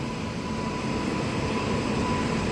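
The Machilipatnam–Visakhapatnam train (17219) at the Gudivada Junction platform gives a steady, loud rumbling drone that holds evenly throughout, with no talk.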